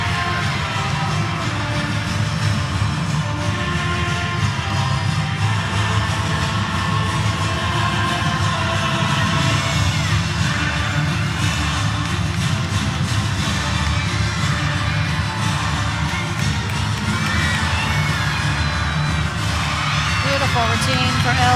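Crowd cheering and shouting fill a gymnastics arena during a collegiate meet, a dense steady roar from many voices, loud and continuous throughout with no clear breaks.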